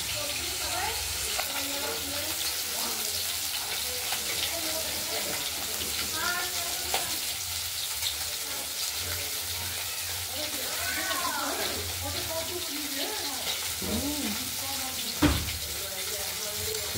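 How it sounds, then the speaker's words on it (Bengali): Rohu fish pieces frying in a pan give a continuous soft sizzle with occasional clinks and one sharp knock near the end, while a voice talks over it. "মাছগুলো একদিকটা ভাজা হয়ে গেছে, আরেক দিকটা ভাজা হলে আমাদের হয়ে যাবে"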